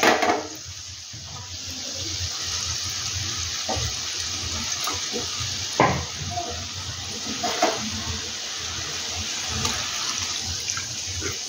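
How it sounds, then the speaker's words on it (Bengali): Water pours from a spice-washing bowl into a cooking pan of cauliflower kofta curry, a steady splashing stream with a few louder splashes and clinks along the way. "এবার আমি জল দিয়ে দেবো। আমি কিন্তু মশলা ধোয়ার বাটিতেই জলটা দিয়ে দিচ্ছি।"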